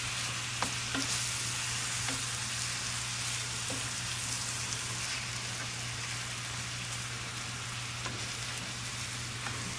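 Lasagna meat browning in a pot gives off a steady, dense sizzle with faint crackles scattered through it. A low hum runs underneath the whole time, and no one speaks.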